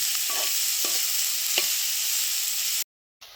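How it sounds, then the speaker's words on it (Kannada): Onions frying in hot oil in a pan, a loud steady sizzle with a few short scraping stirs of a spoon, close up and without talk, ending abruptly in a brief silence. "ಇದಕ್ಕೀಗ ಈರುಳ್ಳಿ ಹಾಕ್ಕೊಳ್ತೇನೆ. ಇದನ್ನೀಗ ಫ್ರೈ ಮಾಡ್ಕೊಳ್ಬೇಕು."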